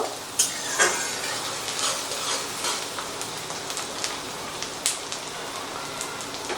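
Finely chopped onions frying in a pan while being stirred: a constant soft sizzle broken by scraping clicks and light taps from the stirring.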